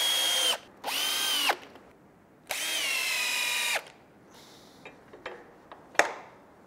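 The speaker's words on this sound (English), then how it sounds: "Now we're going to screw these plates in securely in place." A power drill drives screws to fix plates on a fence gate, giving three sustained whining bursts of a second or so each, followed by a few sharp clicks and taps, close and loud.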